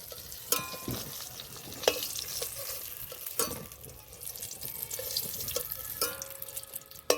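Cornflour-coated eggplant slices fry in oil with a continuous moderate sizzle, broken by several sharp spatula clinks and scrapes against the pan.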